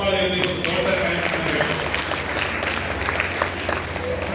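An audience claps loudly and continuously at a talk, a dense wash of many hands with a few voices mixed in.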